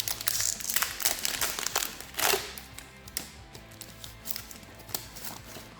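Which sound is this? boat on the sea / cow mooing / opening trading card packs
opening trading card packs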